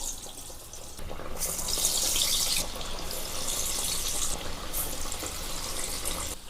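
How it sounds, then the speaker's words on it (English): Masala vada patties fry in hot oil, a loud, steady hissing sizzle that surges after a second and keeps on without a break, no voices present. "So you have to fry each side 2 to 3 minutes."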